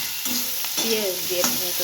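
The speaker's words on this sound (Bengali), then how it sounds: "মাছটা ভাজতে দিয়ে দিয়েছি আর এটা কী বলতো এটা হলো লায়ের খোসা ভাজা" Bottle gourd peel and fish fry in a pan with a steady hiss, overlaid by a few short tonal, gliding squeaks.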